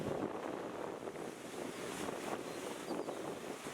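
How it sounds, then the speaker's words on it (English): Waves crashing against rock formations along the Goa coastline, a steady broadband wash of surf mixed with heavy wind buffeting on the microphone, continuous and fairly faint, no speech. "Waves were crushing against the rock formations along the coastline."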